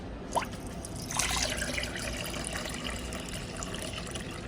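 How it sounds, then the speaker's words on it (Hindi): Milk poured into a small kadhai while making Multani sohan halwa, heard as a soft liquid pour with trickling and dripping near the start, then a steadier fill that fades to a quiet trickle. "दूध हमने डाल दिया है"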